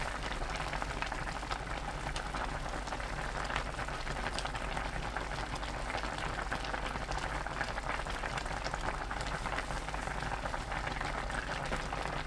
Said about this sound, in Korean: 팔팔 끓으면 중약불로 4분 더 끓입니다.